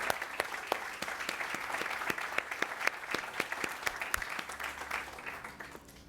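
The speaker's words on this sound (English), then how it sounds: "Let's please give them a big round of applause for all of their hard work and dedication." Audience applause at the opening of the Beecher Terrace housing development in Louisville, a steady wash of many hands clapping with sharper individual claps standing out, fairly distant and holding for several seconds before thinning slightly.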